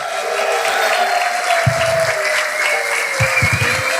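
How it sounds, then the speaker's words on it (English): Steady, dense applause from a large crowd fills the whole stretch without letup, with a few low thuds and murmurs underneath. "Please give them a round of applause."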